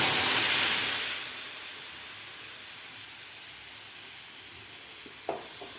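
Blended green moong soup poured into fried garlic in a pan: a loud burst of sizzling and steam hiss at first, fading over a couple of seconds into a quiet simmer, with one small clatter near the end.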